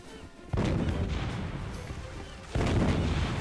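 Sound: gunfire in video game

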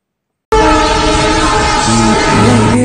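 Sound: train passing with horn

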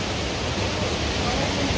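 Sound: waterfall in Mussoorie

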